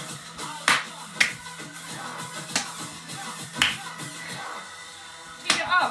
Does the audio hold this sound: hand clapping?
yes